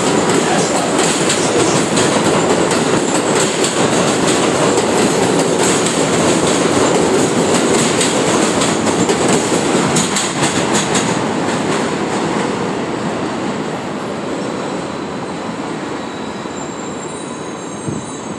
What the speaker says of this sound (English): Local 7 train to Flushing Main Street approaching.